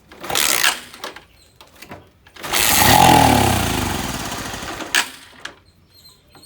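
A motorcycle engine being started after a little petrol is added to fix a no-start problem: short bursts of cranking, then a loud rough run of a few seconds that fades, followed by another brief burst.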